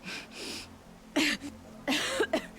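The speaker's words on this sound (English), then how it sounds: "Oh no, she's coughing." A woman coughs in two harsh, close bursts, preceded by softer breathy sounds, with no speech, in the video game Horizon Zero Dawn.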